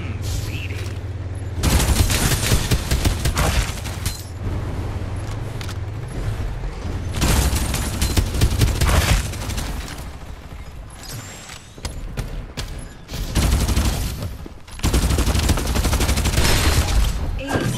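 Heavy gunfire in the battle video game Farlight 84, loud sustained bursts of automatic fire in long stretches separated by short lulls, close and dense.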